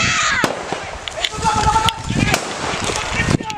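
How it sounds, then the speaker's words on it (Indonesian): Police warning shots fired into the air during a drug suspect's escape attempt toward a forest in Mesuji, Lampung: several sharp loud cracks at irregular intervals amid outdoor commotion and voices. "Polisi terpaksa mengeluarkan tembakan peringatan ke udara untuk menghentikan upaya pelarian pelaku."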